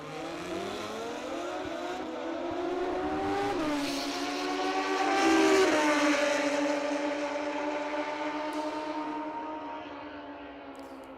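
Two drag racing motorcycles at a Friday session of the 45th ManCup World Finals scream down the strip, a sustained rising engine whine that swells mid-run and then fades into the distance.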